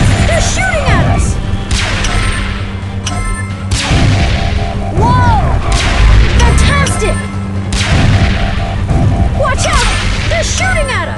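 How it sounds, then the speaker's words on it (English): Gunfire in a Transformers Rescue Bots cartoon scene set in snow: repeated sharp impact blasts and crashes with whooshing effects, loud and steady throughout, mixed with background music and voices shouting. "They're shooting at us!"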